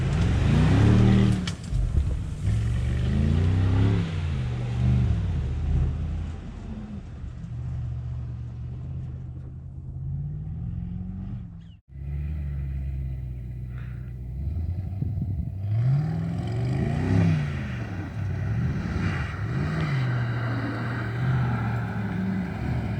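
A 2020 Mercedes-AMG GLS 63 V8 driving through sand, its engine roaring and surging through repeated revs, with brief dips, a sharp cut near the middle and the whoosh of a blow-off valve between pulls, loud and close throughout.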